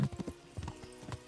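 Horse hooves clip-clopping on a road in Kingdom Come: Deliverance, a medieval video game: a steady run of soft, fairly faint hoof strikes in an even walking rhythm.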